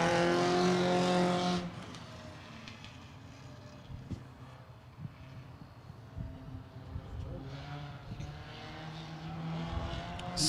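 A race car on a qualifying lap at Willamette Speedway drones continuously at a distance, its engine note rising and falling through the turns. An announcer talks over the engine at the start.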